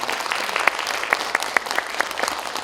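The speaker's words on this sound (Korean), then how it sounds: "축하의 박수 한번 부탁드리겠습니다." Audience applause at a literary festival award ceremony in Korea, steady clapping from a room of people with several sharper claps standing out, close and fairly loud throughout.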